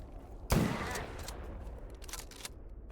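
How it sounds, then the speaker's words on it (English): Sharp shotgun blast in a video game, one loud close report at the start followed by scattered fainter gunfire and clicks, with faint talk in the background. "I love my shotgun that jams 1 out of 5 shots."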